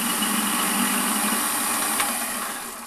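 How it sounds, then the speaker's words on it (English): A Warco WM180 metal lathe runs with a steady mechanical hum and whir, close and continuous, after facing off the end of a small workpiece. "So we'll stop the lathe."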